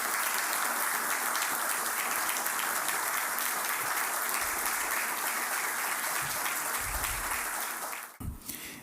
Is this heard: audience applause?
yes